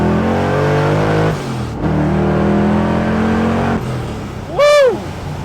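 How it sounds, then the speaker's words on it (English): A procharged 6.2-liter 1970 Chevrolet Chevelle SS restomod accelerates hard, its loud engine roaring steadily through gear changes with brief dips between pulls, then a sharp rising whine near the end. "let's go ahead and show you what this car can do"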